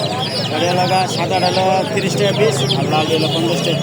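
Chickens and chicks at a village poultry market, with dense overlapping clucks, peeps and chirps close by, while people talk over the birds throughout.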